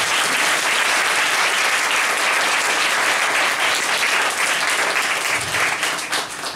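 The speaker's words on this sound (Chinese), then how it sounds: "所以我们再一次热烈掌声欢迎" Audience at a Chinese-language public talk bursts into loud, sustained applause, a dense wash of many hands clapping that carries on for several seconds before beginning to thin at the end.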